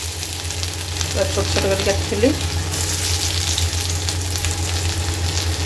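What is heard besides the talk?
garlic and ginger frying in oil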